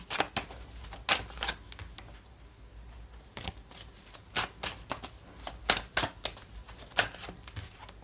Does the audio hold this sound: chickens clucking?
no